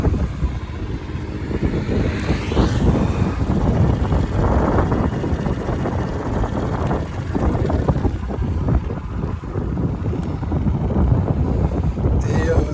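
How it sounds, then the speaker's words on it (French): Strong wind buffets the microphone in a loud, continuous roar, with low rumbling gusts and occasional voices in the background. "Et il y a du vent"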